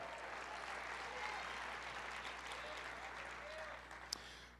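A church congregation applauds together in a steady, sustained wash of clapping that fills the space evenly, with a single sharper clap standing out near the end; no words are spoken.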